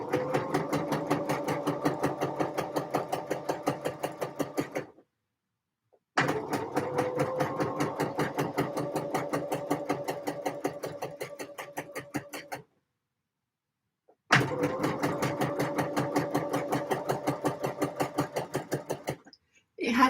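A sewing machine runs in rapid, even stitching bursts while hemming a skirt, three long runs separated by short pauses, close and clear.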